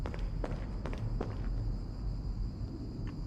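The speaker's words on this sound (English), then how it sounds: "I definitely heard some footsteps." Footsteps in a survival video game, a few soft scattered steps heard in the first half over a steady low ambient hum, then fading away.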